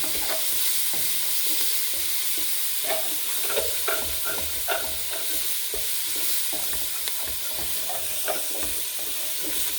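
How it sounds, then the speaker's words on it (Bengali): Onions spattering and crackling in hot oil as their moisture hits the pan, for a quick potato and radish curry with dried fish, a dense steady sizzle with scattered sharp pops and occasional stirring, close and fairly loud. "পেঁয়াজে পানি থাকার কারণে ছিটতেছে"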